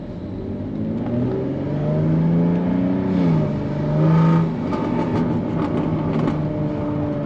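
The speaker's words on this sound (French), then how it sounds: "Très très belle sonorité avec l'échappement sport" A Jaguar F-Type 3.0 V6 with a sport exhaust revs steadily, its pitch climbing and dipping through several rises, loud and close, with no talk over it.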